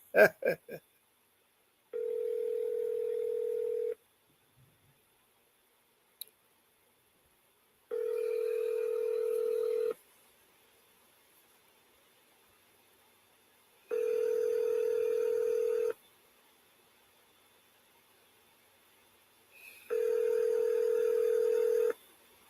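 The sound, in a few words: phone call ringing and dialing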